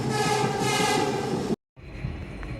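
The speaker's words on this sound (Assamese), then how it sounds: "এইফালে ট্ৰেইন দেখাই লৈ গৈছোঁ" A train heard from on board or nearby, a loud continuous rumble with a horn-like tonal layer that cuts out abruptly, then a quieter running hum resumes.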